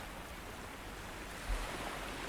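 Soft, steady wash of ocean waves in the middle of the open sea, a low continuous rumble with one brief swell of surging water partway through and no voices.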